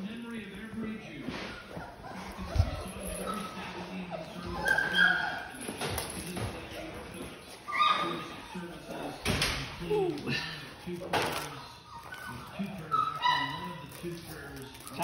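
Young puppies yip, whimper and bark in short, sharp bursts while tussling over a toy indoors, with a thump or two in between and a person talking softly among them.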